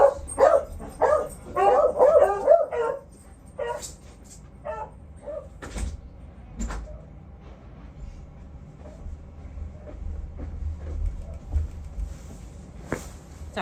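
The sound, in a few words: dogs barking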